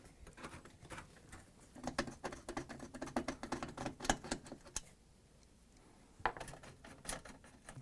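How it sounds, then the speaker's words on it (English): Small 1/4-inch screws being worked loose from the gasket frame on a GE oven door, a run of close, quick metallic ticks and clicks in bursts, with a brief quiet gap before more clicking. "we need to take out 4 1/4-inch screws and lift off the frame"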